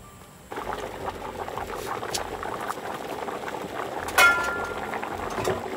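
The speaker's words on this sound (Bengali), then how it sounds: "এখন আমাদেরকে খুব জোরে চাউল দিতে হবে বলক আসা পর্যন্ত" Rice for white mutton pulao boiling hard on high heat, a close bubbling and gurgling that swells after a quiet start, with a brief louder splash partway through.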